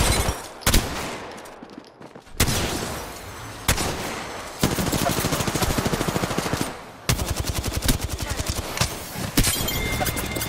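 Video game gunfire in rapid automatic bursts, loud and close, with several sustained strings of shots separated by short pauses and sharp single cracks between them.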